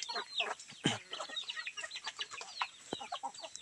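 Hens clucking softly with high peeping chicks chattering around them, a busy, close flock of small overlapping calls.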